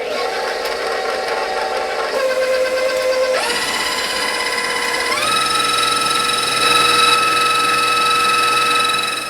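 An electric mixer beats eggs into cheesecake batter, its loud, steady motor whine holding without a break and stepping up in pitch several times as the speed rises.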